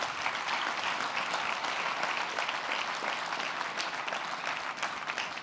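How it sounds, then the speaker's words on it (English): Conference audience gives a sustained round of applause at an opening ceremony, an even, dense wash of many hands clapping from start to finish with no speech over it. "let's have a round of applause for Eric and Ryan."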